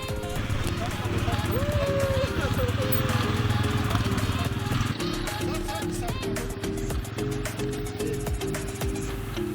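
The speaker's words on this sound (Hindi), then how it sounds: "अब टाइम है ATV बाइक्स की टेस्ट ड्राइव का।" ATV quad bikes running on a test drive at an adventure sports site in Solang Valley, Manali: a steady engine drone with shifting revs throughout, loud and close, with people talking over it.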